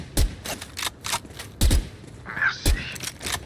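Phantom rifle fire in Valorant: a few loud, sharp single shots spaced irregularly over a few seconds, with some background game sounds between them.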